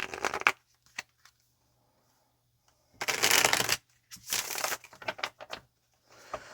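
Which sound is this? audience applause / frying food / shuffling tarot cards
shuffling tarot cards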